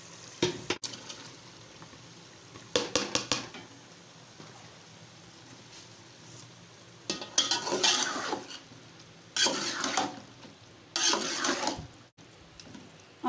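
Chicken with beetroot is stirred and cooked in a pan, a spoon scraping and clinking against the metal in short bursts of activity, with quieter frying between them and no talking.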